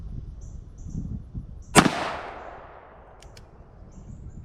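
A single loud, close gunshot from a Ruger New Vaquero .45 Long Colt revolver, a sharp crack followed by a ringing, decaying tail, with quiet murmurs before it.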